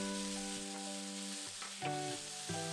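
Pork belly sizzles in hot oil in a wok over medium-low heat, a steady crackling fry with a couple of louder spatter bursts, close and without talk.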